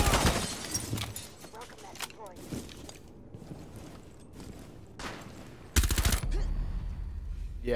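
Gunfire in a Rainbow Six Siege match: rapid automatic bursts and sharp shots crackle loudly across the clip, with one heavier blast near the end, while players talk over the action.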